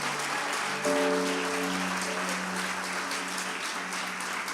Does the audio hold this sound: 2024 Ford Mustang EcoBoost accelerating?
no